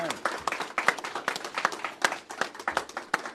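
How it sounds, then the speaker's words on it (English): A small audience at a celebration of a business expansion gives a round of applause, heard as distinct, fairly close claps in an uneven rhythm rather than a dense roar. "another round of applause, please"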